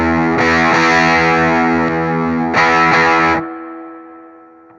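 An electric guitar through an Animalizzer Big Muff-style fuzz pedal, thick sustained distorted chords ringing out, with a restrike midway before the tone cuts and fades.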